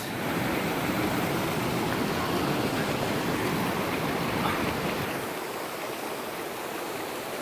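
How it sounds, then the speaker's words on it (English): River rapids on the Little Hoosick River rush past a kayak, a loud broad roar of churning water that stays steady and close, easing slightly toward the end. "We just came to our first set of real rapids."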